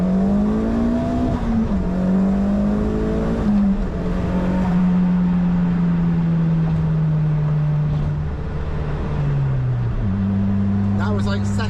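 A light car with a 1.8T engine swap accelerating hard through second, third and fourth gears: a loud, close engine note rising in pitch, dropping at each shift and climbing again, continuous and strong throughout.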